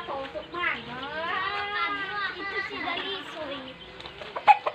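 Chickens on a small backyard farm give a run of close, harmonic clucks and calls that rise and fall over several seconds, ending with a couple of short sharp squawks.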